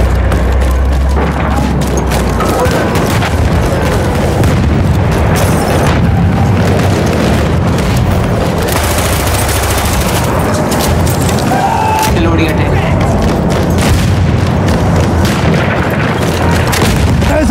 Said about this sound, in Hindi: बट मैंने उनका टैंक उड़ा दिया है